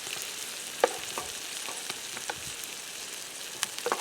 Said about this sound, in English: just let it sit in this wonderful sizzling butter, garlic butter